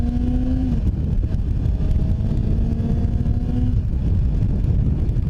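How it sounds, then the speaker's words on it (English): A supercross motorcycle engine being broken in revs higher and drops back, a loud, close droning note with wind rush across the microphone. "we're revving up higher, breaking the engine in"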